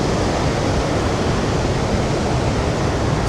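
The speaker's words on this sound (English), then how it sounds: "rode over to one of the region's most prominent attractions, El Pailon del Diablo, an incredible waterfall tucked away in the lush jungle" El Pailon del Diablo waterfall in the jungle near Baños, Ecuador, gives off a loud, steady broadband roar of crashing water that holds even for the whole stretch, with no voices over it.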